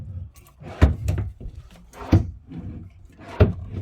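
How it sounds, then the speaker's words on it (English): Wooden pull-out drawers in a 2022 Cougar 33RLI travel trailer slide and thunk shut several times in succession, with dull knocks and scraping runners, close by and with no talking. "that still leaves 4 full pull-out drawers right here as well"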